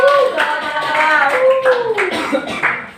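A classroom group applauds after a history lesson quiz, with loud, close clapping across the whole stretch and a few voices calling out over it.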